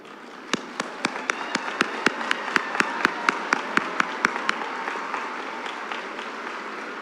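Audience applause at a college commencement ceremony, with a steady crowd clapping throughout and one nearby person's loud, evenly spaced claps standing out in a regular rhythm before fading away.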